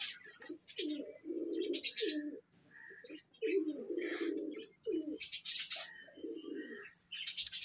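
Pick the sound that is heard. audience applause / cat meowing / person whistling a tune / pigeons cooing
pigeons cooing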